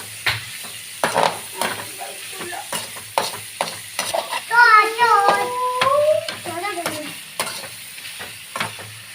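Quail frying in a pan while being stirred: a continuous sizzle broken by repeated scraping and clinking stirs, with a voice chattering nearby in the middle.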